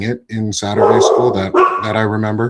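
A dog barks and yips in the background of a room, loud at moments and mixed under a person speaking close to the microphone.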